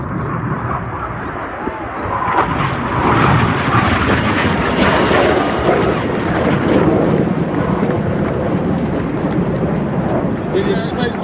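Red Arrows jets roaring overhead during an air show display, a loud, sustained broadband engine rumble that swells after the opening seconds and holds steady throughout, with no clear speech over it.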